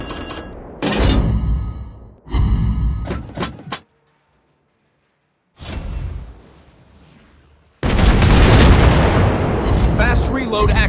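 Naval guns of the Tier 8 German cruiser Schill in World of Warships Blitz fire in loud, booming salvos: several heavy bursts separated by short gaps, one near-silent pause, then a long roaring volley at the end.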